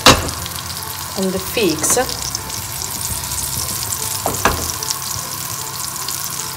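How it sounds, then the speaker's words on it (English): Butter melts and sizzles in a pan with seared meat and figs, a steady crackling hiss broken by a few utensil clinks, with a brief spoken phrase over it. "Now I add some butter"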